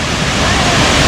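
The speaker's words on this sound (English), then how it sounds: "At the background, the second tallest waterfall is" Goa's second tallest waterfall roars as a loud, steady, broadband rush of falling water, unbroken and close.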